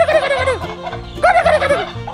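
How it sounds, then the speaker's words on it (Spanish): A turkey at a house in Santa Ana, El Salvador gobbles in two loud, close bursts of warbling calls, alone with no talk. "Y tienen chumpe, ve."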